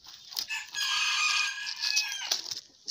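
Chickens on a rural smallholding give a sustained loud call that sounds like a crow, with a few shorter clucks before and after it.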